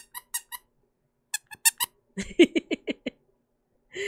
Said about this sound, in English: I did get a little squishy Magmite. It squeaks.